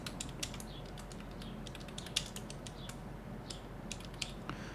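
Rapid, quiet keystrokes on a computer keyboard tap out C code in irregular bursts, close to the microphone over a low steady hum.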